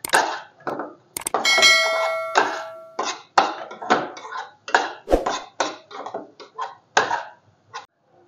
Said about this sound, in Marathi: हे मसाले आहेत ते आता आपण छान असे परतून घेऊया